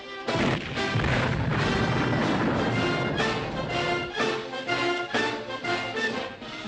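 Artillery fire in a war movie set among American GIs, a dense roar of booming blasts and crashes layered with score, loud and sustained with repeated heavy impacts.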